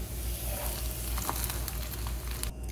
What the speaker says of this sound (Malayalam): ഇനി നമ്മൾ ആ എണ്ണയിലേക്ക് തേങ്ങ കൊത്തി ചേർത്ത് കൊടുക്കാൻ പോവാണ്